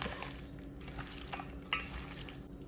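Broiler chicken pieces are mixed with chili powder in a bowl, giving faint, irregular wet stirring and squelching sounds with a couple of light utensil clinks.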